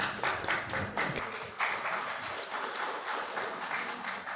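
Audience at a conference hall clapping in a faint, moderate round of applause that carries on steadily for a few seconds.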